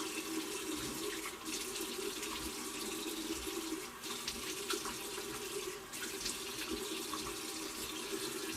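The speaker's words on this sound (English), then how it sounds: "rinse some of that alum off" Water runs from a bathroom tap into a sink as shaving alum is rinsed off after a wet shave, a steady close splashing stream with brief dips and interruptions.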